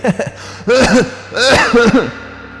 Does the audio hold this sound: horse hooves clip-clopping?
no